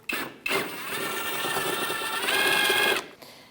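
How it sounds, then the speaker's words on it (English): A powered 8mm socket removes a bolt holding the front inner fender liner of a 2000-2006 Mini Cooper. A short whir is followed by a longer, steady motor whine that rises slightly in pitch before stopping, heard up close. "Using an 8mm socket, we're going to remove this bolt."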